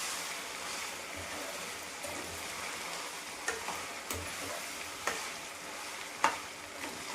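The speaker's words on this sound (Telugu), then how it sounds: "ముక్కలకి పట్టేలాగా కాసేపు వేయించుకున్నాను" Boneless chicken pieces frying in foaming peanut oil for a pickle give a steady, dense sizzle throughout, with a few sharper pops and crackles standing out near the end.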